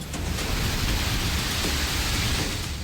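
Heavy rain pours in a dense, steady hiss during flooding, loud and unbroken with a deep rumbling undertone throughout, no voices.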